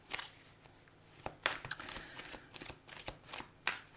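A deck of tarot cards is being cut and handled on a table, giving soft quiet flicks, slaps and shuffling card sounds in an irregular rhythm with no voices.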